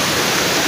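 Water flowing down the side of a waterfall near a small cave in Malaya, Banga, South Cotabato, heard as a brief, loud, even hiss of rushing water close by, without any voices.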